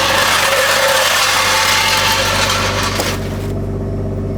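A Toyota Supra engine idling steadily after an oil change, a loud, even low rumble close by that holds throughout and softens slightly near the end.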